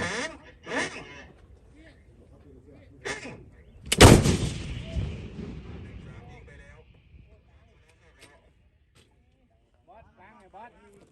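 A single M198 155 mm towed howitzer fires a live round during artillery training, one loud sharp blast followed by a long rolling rumble that fades out, with voices talking before and after.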